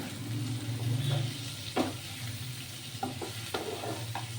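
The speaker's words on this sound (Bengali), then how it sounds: "এই লবণ হলুদ দিয়ে এই একটু নাড়াচাড়া করব" Water spinach (kalmi shak) with potato, salt and turmeric being stirred in a pan, a low simmering hiss with a few soft scrapes and taps of the spoon, close but quiet and without talk.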